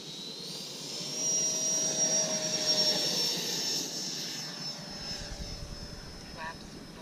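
A Freewing L-39 Albatros 80mm electric ducted-fan RC jet whooshes past with a steady, rising-then-fading turbine whine, a thin high tone riding on top, while people talk nearby.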